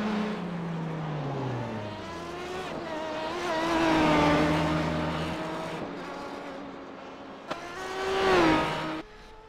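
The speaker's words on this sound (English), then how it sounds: "The Aston Martin's really almost got a F1 sort of a sound to it." An Aston Martin GT1 race car's engine sounds through a night race, a droning note that rises and falls in pitch as it revs and passes, fairly loud with other engines around.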